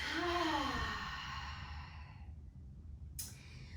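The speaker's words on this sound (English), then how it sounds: "Take one big inhale here and exhale all out." A long, breathy exhale during a beginner yoga class, one big out-breath fading steadily over a few seconds, close and soft, with no talk over it.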